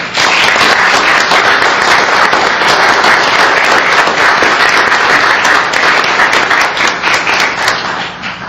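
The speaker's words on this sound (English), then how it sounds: "please give these folks a round of applause." A dense, sustained round of applause from a large crowd at a city council meeting, steady and loud throughout, tapering slightly at the very end.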